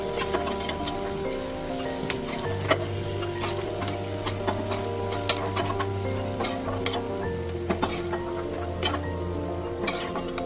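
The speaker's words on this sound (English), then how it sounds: "Fry until these turn golden brown." Crispy potato and semolina bites frying in hot oil, a steady crackling sizzle with scattered sharp pops running throughout, close and fairly quiet, with a low hum underneath.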